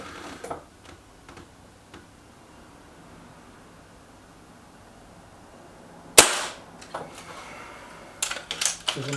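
A Beeman 1357 air pistol fires heavy pellets: one sharp, loud snap stands out midway, with lighter mechanical clicks and handling sounds before and after it in a quiet setting.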